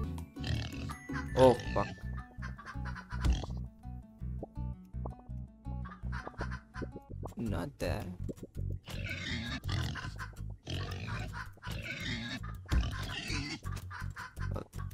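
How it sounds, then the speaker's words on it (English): Pigs grunt and oink in the Turnip Boy video game, repeated snorting bursts mixed with game music and effects while someone talks over them. "all those pigs making noise"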